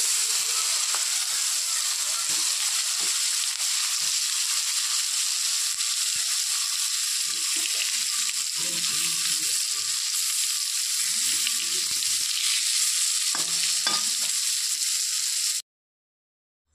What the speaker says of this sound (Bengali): তো এখন ওই তেলের মধ্যেই বেগুনগুলোকে ভেজে নিব।